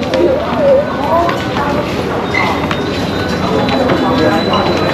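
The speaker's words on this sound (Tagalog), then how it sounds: "Sasakay tayo sa SkyTrain ngayon papuntang Central World." Bangkok BTS SkyTrain in motion, a steady rumble of the rail car with faint squeals and clatter, heard from on board beneath a continuous background of voices.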